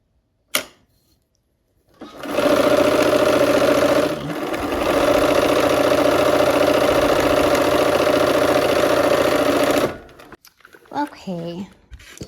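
A home sewing machine fitted with a 1/4 inch foot stitches quilt block pieces in a continuous run, its rapid even motor chatter breaking briefly once, followed by a short voice and a few small handling noises afterward.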